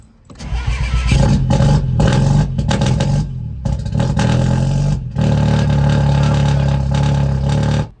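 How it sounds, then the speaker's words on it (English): A Mini Cooper S R56 with a Liberty Walk body kit and a failing engine cranks and starts, then revs loudly and unevenly in repeated bursts with short pauses between them. "So this is the first time this car will be started in a long time."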